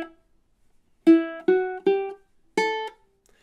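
A ukulele picks measure 9 of a melody: after a brief pause, four plucked notes ring out in time, each decaying quickly, the last one slightly higher, close and clean.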